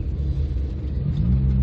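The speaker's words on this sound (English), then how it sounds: "Driving this car on the roads just on the outskirts of the New Forest is an absolute joy." A 1972 Austin Maxi 1750 drives along a country road on the edge of the New Forest, its engine giving a steady low rumble with road noise throughout, close and continuous, no talk.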